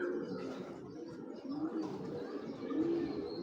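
Pigeons coo in a steady, overlapping murmur, close and moderately loud, with throaty rolling calls rising over a busy loft background and no talk.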